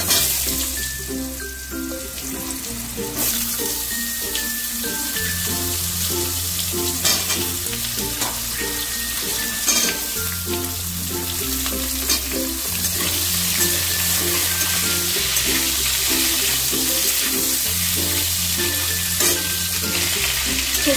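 Pumpkin greens and other vegetables sizzle steadily in hot oil tempered with dried red chilli and panch phoron, a loud, close and continuous frying hiss with occasional stirring scrapes and background music.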